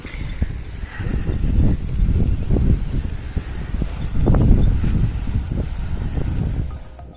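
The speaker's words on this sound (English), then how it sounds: "listen to the audio, because the microphone didn't pick up as much wind as I expected." Wind picked up by the microphone of a budget Xiaomi smartphone outdoors: steady, low rumbling buffeting with gusty swells throughout, moderately loud and alone.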